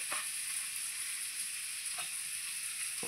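Garlic, chopped ginger and dried red chilli frying in hot oil, a steady soft sizzle with a few brief stirring clicks, close and fairly quiet, no voices.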